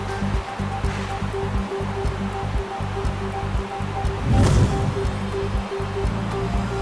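Floodwater from monsoon rains rushes in a continuous loud, broadband roar, with a brief surge of splashing midway and no voices.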